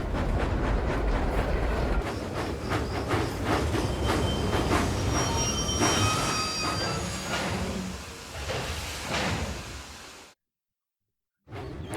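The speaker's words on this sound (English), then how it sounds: "Donald took a supply train to the docks" A supply train rolls along the rails with rhythmic clacking and a metallic squeal, steady for several seconds before cutting to silence near the end.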